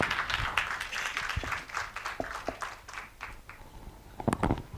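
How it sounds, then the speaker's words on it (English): Audience applause at a business summit, a moderate crowd clapping steadily with scattered sharp claps and no speech over it. "Let's give a massive round of applause."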